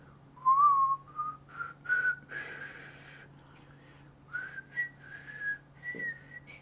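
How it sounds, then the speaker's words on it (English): Someone whistles a few short, wavering notes with breathy pauses between them, close by and somewhat unsteady, with no talking. "Let's see if I can actually retrain myself to whistle."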